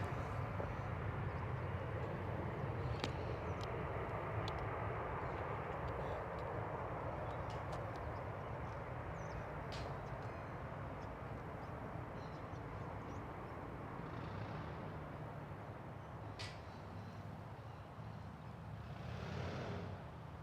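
A Jetstar airliner on approach to Gold Coast Airport, its engines a steady, broad distant roar that holds evenly throughout with slight swells, no voices over it.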